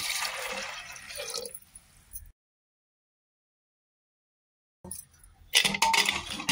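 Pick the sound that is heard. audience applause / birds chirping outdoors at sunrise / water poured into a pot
water poured into a pot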